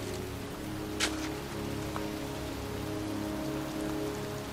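Steady pouring rain falls over a cemetery in the video game Heavy Rain, a dense continuous hiss with a couple of faint higher drips or splashes and no talking.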